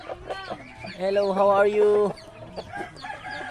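A rooster on a Muscovy duck farm gives a loud, drawn-out crow-like call lasting about a second, with softer clucking around it and a person's voice speaking briefly nearby.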